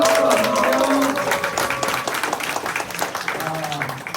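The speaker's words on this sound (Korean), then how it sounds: "큰 박수로 와주세요." An audience at a school parent sharing event in rural Anseong gives presenters a warm round of applause, steady clapping filling the room from the start and slowly thinning toward the end.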